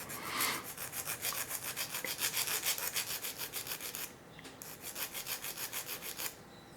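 Rhythmic rasping strokes of a file thinning the blades of a cheap ruling pen, close and steady with one brief pause midway and no voices.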